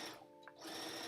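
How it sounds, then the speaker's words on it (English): A sewing machine runs in a steady whirring hum as it stitches stretchy backpack fabric a centimeter from the edge, briefly dipping before resuming, faint and close. "And now we're starting to sew"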